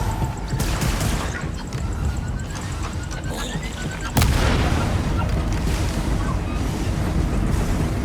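Blaster gunfire and combat noise in the video game Star Wars Outlaws, a loud, dense barrage with a heavy boom about halfway through followed by sustained rumbling action.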